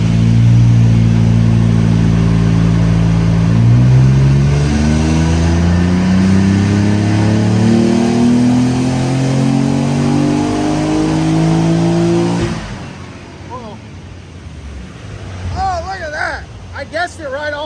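A Nissan 300ZX twin-turbo running 11 pounds of boost roars loudly through a rising dyno pull, pitch climbing steadily for about twelve seconds before cutting off, followed by quieter background noise and voices.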